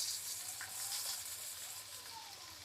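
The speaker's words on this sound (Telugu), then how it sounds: "చాప్ చేసి పెట్టుకున్న ఆనియన్స్ కూడా వేసేసుకుందాం" Chopped onions and green chillies frying in a pan, giving a steady soft sizzle close by and fairly faint, with a few light stirring touches.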